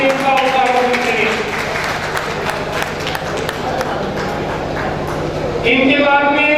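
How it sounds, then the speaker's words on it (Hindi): An audience claps steadily for a graduate walking onto the stage at a college degree ceremony, the applause continuous under a speaker's amplified voice. "तालियों से इसका उत्तर करें।"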